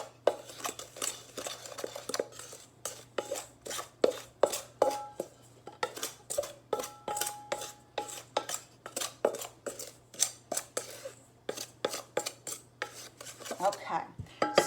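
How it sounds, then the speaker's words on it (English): A spoon stirs a strawberry jam mixture in a bowl, clinking and scraping against the sides in a quick, steady rhythm of many strokes, close and alone. "And stir that up. Just mix that in real good."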